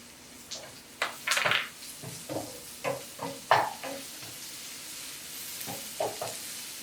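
Onions, green chillies and curry leaves sautéing for mutton chukka: an uneven sizzle broken by a series of loud spatula scrapes and clanks against the pan, close by, with no talking.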